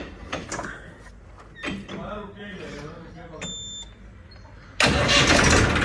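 A tractor with a trolley is started on its self-starter: after indistinct voices, the starter cranks briefly and the diesel engine catches, roaring loud and close to the end.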